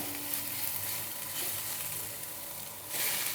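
Chopped onions sauté lightly in a pan for a samosa potato filling, giving a steady, close, even sizzle that holds throughout with no talking.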